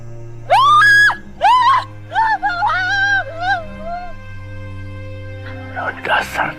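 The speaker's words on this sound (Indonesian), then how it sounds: "Teriakannya bikin sakit otak." A woman lets out several piercing, high-pitched screams in quick bursts, loud and close, over a low steady hum.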